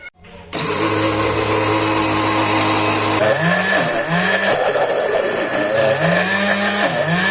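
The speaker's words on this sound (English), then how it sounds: "So the first blender that I was using is not very strong here, so I had to switch to this other blender." A loud, strong kitchen blender grinds peanuts with olive oil into homemade peanut butter, running steadily with a harsh motor whine that dips and surges as its load shifts, alone with no talk.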